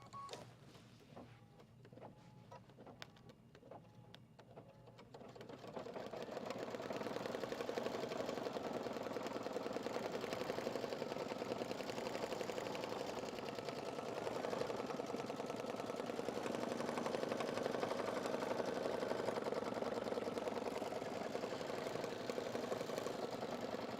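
An embroidery machine stitching a design onto Mylar; a few faint mechanical clicks give way to a steady, fast, rhythmic motor whir that holds at a constant level, close by, with no voices.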